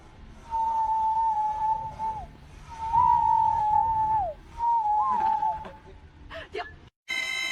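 Steady sustained whistles from a walrus, three long held tones that each bend downward at the end, clear and close against a rumbling background, followed by a burst of other harmonic sound.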